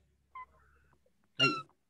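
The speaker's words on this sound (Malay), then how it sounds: "Kucing." A cat meows once, a short harmonic cry standing out clearly against a quiet indoor room during an online religious class, preceded by a fainter tonal sound.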